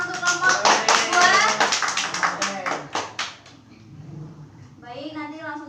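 Pupils in a classroom clap for a group of classmates, a quick run of sharp, scattered hand claps mixed with children's voices that fades out, followed by a voice speaking.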